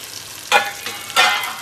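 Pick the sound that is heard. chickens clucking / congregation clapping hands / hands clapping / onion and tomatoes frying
onion and tomatoes frying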